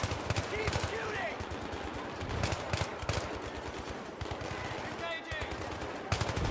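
Rapid machine gun bursts in Battlefield 3, sharp repeated cracks in quick rhythm with short pauses, loud and close, under game voice callouts.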